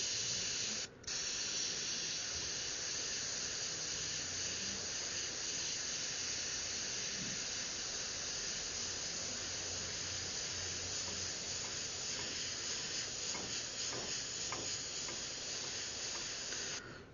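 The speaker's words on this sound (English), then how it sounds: "we will go over here and mist some more flesh tone over that" Airbrush misting flesh-tone paint onto a portrait: a continuous, even spray hiss running unbroken for the whole stretch, close and steady, with no talk over it.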